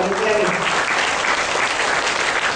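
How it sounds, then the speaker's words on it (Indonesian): Audience applause for the organizing committee at an arts performance event at IPB, a full continuous wash of crowd clapping, loud and even from start to finish with a voice briefly audible at the start. "Tepuk tangan juga dong buat panitia nih."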